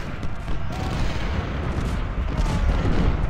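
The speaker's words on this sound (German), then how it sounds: "Ich höre meine Kanone, ich feuer verdammt" Cannon and artillery fire in the Civil War strategy game Ultimate General: Civil War, a dense, continuous rumble of booming shots layered into a steady battle roar with no clear gaps.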